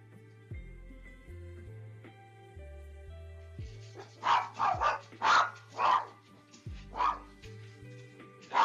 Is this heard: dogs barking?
yes